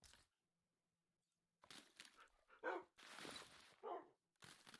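Puppy in the Minecraft video game, heard as short, sharp, game-style barks and yips in separate bursts with silent gaps between them, close and clear.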